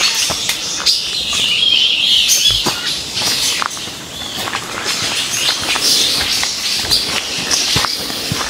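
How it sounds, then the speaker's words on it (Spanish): Small birds chirp and twitter repeatedly near the 27 waterfalls of Damajagua in the Dominican Republic. The high, scattered calls sound moderately close and continue throughout, over shuffling footsteps and faint background rustle. "Tenemos una serenata de pajaritos."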